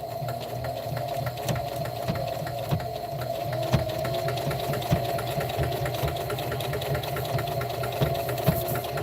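Sewing machine stitching fabric layered over a Dollar Tree dish drying mat, running in one steady, close mechanical whir with a faint regular ticking throughout.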